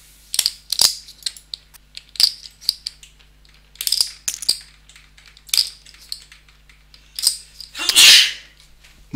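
A man sneezes once, sharp and close, during a livestreamed online poker tournament, preceded by a series of mouse clicks and small tapping noises with no talk.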